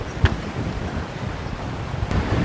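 Strong wind rumbles across a microphone at a coastal lookout on Australia's east coast, a steady low roar with a couple of sharp buffeting thumps.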